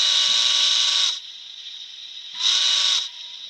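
A model train sound decoder sounds a steam whistle in two loud, hissy blasts, a long one and then a shorter one after a pause, close and clean with no talking.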